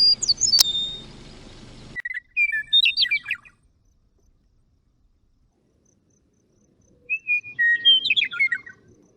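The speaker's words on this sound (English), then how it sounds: "So a western meadowlark sounds something like this." Western meadowlark song: two separate bursts of bright, fluting whistled phrases, clear and fairly close, with a short noisy rustle at the start and quiet between the phrases.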